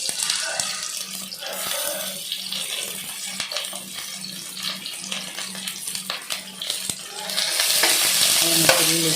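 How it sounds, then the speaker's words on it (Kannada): Garlic cloves fry in a pan with a soft, steady sizzle and scattered stirring clicks, growing louder and brighter toward the end. "ಅದಕ್ಕೆ 7 ಎಸಳು ಬೆಳ್ಳುಳ್ಳಿದೆ ತಂದೆ ಇದನ್ನಂತೆ ಫ್ರೈ ಮಾಡೋದು"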